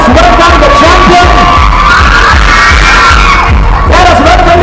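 A crowd at a basketball awarding ceremony cheers loudly for the champions, with continuous dense clapping and shouting that stays close and loud throughout, with no break.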